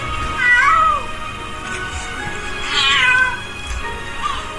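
A cat meows twice, clear and fairly close, with a fainter third call near the end over a steady low background hum.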